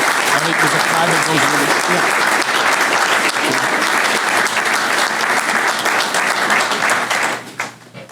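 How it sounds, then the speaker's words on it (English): Sustained loud applause from a crowd at a veterans' recognition breakfast, steady and dense for about seven seconds before tapering off, with some voices mixed in. "I think he deserves another round of applause"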